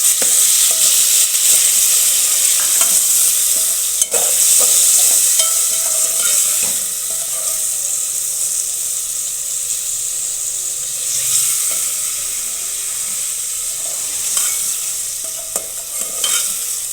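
Tomatoes sizzling in a pan with ginger garlic paste while being stirred, a steady bright frying hiss with occasional scrape and stir knocks, close and fairly loud, with no talking.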